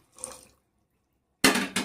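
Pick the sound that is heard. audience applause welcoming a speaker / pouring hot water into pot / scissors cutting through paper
pouring hot water into pot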